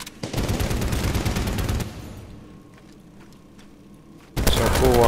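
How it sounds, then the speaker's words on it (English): Heavy machine gun fire from Medal of Honor: Warfighter rattles in a loud, rapid continuous burst, drops away briefly to quiet, then resumes abruptly and loudly near the end. "Yes, heavy machine guns, nice."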